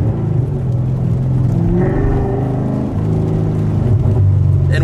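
A supercharged 550 hp Corvette C7 Stingray with an Armytrix valved exhaust revs loudly and continuously up close, its deep droning exhaust note rising and falling through an automatic rev-matched downshift.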